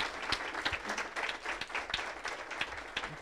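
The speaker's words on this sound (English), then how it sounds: "give a round of applause to" A seated audience at a Startup Grind Nairobi event gives a sustained round of applause, dense clapping from many hands with a few louder nearby claps, and no talk over it.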